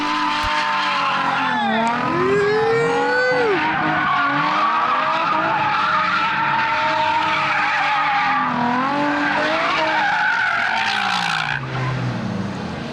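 A car drifts figure eights on a skid pad, tires skidding and squealing loudly in long rising and falling sweeps over a steady engine roar, with brief voices underneath.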